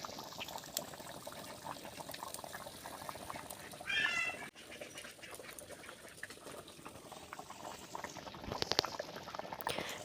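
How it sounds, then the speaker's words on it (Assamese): Chicken curry simmers in a covered pot over high heat, a steady bubbling hiss with soft liquid gurgles and a brief clatter partway through. "চিকেনখিনি পূৰা উতলি আছে আৰু এতিয়া ঢাকি ৰখা হৈছে।"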